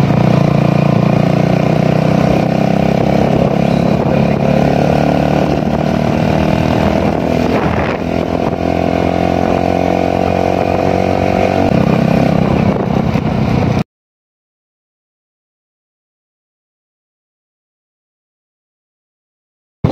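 A motorcycle engine drones steadily for about fourteen seconds, loud and close with a slight rise in pitch, then cuts to silence.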